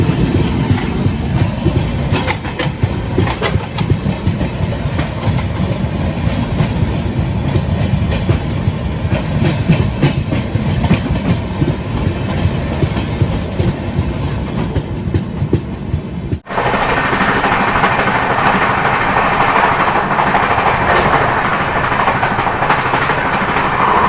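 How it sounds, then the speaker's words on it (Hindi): Passenger train passing on a crossing track, heard from aboard the Shiv Ganga Express: a loud, continuous rumble with rapid clickety-clack of wheels, then an abrupt shift in tone partway through as the other train clears. "लेकिन सोने से पहले कुछ ट्रेन का क्रॉसिंग दिखाना चाहते हैं"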